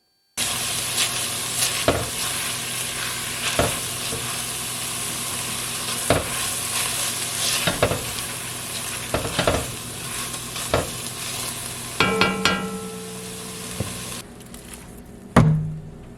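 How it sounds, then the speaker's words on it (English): Ground pork sizzles steadily as it browns in a pan, with a spatula scraping and stirring at regular intervals of roughly a second and a half, ending in a louder clatter. "while the meat is browning up"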